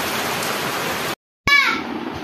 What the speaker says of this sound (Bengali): এই বৃষ্টিটা ভালো জোরেই হচ্ছে।